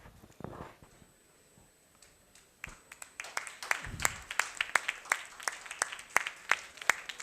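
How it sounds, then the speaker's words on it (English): An audience at a medical association's installation ceremony in Erode starts with a few scattered claps, then swells into a run of sharp, loud, evenly spaced handclaps welcoming the new president. "Everybody please give a big hand of applause."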